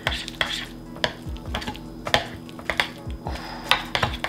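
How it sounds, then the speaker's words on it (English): A cheese mixture is stirred in a pan with a utensil, giving repeated close scraping and clinking strokes at an uneven rhythm over a faint low hum. "We're gonna do a little stir on this guy right here."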